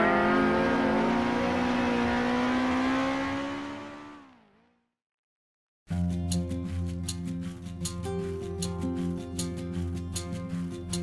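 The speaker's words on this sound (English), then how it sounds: "rocketing past the grandstands and beginning another lap" A vintage race car engine in the Grand Prix Legends sim racing game, on the Targa Florio circuit, screams loud and close as it revs down and cuts to silence. Then the harsh engine note returns at high revs, buzzing steadily.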